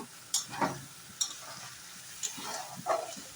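Spice paste with chopped tomato and green chillies frying in a pan, faint sizzling broken by a few soft stirring scrapes and clinks at irregular intervals.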